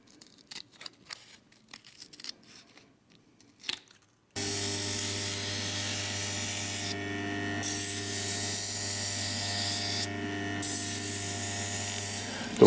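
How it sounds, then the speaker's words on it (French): A polycarbonate polarized sunglass clip lens cut dry without water, starting with soft intermittent scraping and snipping, then a loud steady machine whine and grinding that runs without a break to the end. "sur le polycarbonate, il va falloir tailler à sec, sans eau"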